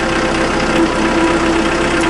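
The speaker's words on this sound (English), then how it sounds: "One thing that kind of freaked me out was the amount of noise when the tractor isn't moving." A Yanmar tractor engine idles while stationary, a steady close mechanical drone with a faint rhythmic knock and a sustained whine running through it, no voices present.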